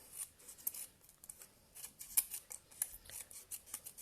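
Scissors snip through cardstock for a Stampin' Up! card, a series of short, crisp, close cuts in an uneven rhythm across a quiet room.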